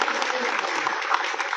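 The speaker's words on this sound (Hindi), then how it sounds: "जोरदार तालियों से स्वागत।" A crowd at a village BJP election rally in Kamalwala claps enthusiastically, a dense, steady burst of applause heard fairly close, with a voice faintly mixed in.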